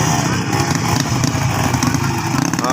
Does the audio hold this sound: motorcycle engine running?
yes